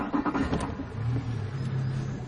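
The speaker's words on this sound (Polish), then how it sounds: "Odpalamy silnik." A boat's outboard engine cranks and catches, then settles into a steady mid-pitched running hum, close and fairly loud with no talk over it.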